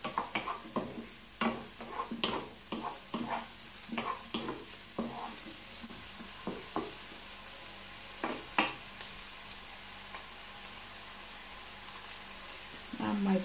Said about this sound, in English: Je peux mettre mes champignons maintenant. Et je continue à griller ça aussi.